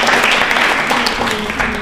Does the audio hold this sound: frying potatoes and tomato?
no